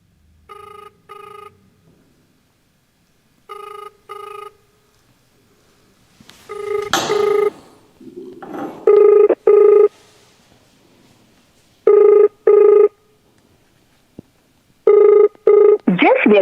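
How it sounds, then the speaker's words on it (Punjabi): A mobile phone call to a politician's number rings unanswered, sounding as repeated paired ring tones with short silent gaps between them and brief talk midway. "ਇਹ ਲੱਗਿਆ ਹੋਇਆ ਲਾਭ ਸਿੰਘ ਉਗੋਕੇ ਦਾ ਨੰਬਰ ਆ ਇਹ"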